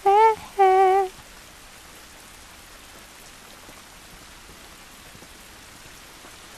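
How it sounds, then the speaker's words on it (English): Steady, soft rain falls in The Last of Us Remastered, a constant hiss beneath a brief tonal game sound at the start. "This rain ain't gonna do us any good."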